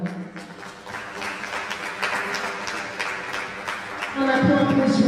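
An audience applauds a speaker being introduced at an event on human-centered AI, with scattered to moderate clapping throughout and a voice talking over the claps toward the end.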